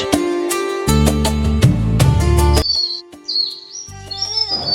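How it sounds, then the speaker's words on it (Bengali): Birds call around a village on the edge of a city, bright chirps and whistled notes over a strong rhythmic musical backing, the calls clearer in the second half. "পাখির ডাক, বাতাসের গুঞ্জন"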